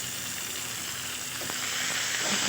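Onion and coriander frying in oil for green chilli chivda make a loud, close, steady sizzle, growing a little stronger toward the end with faint stirring.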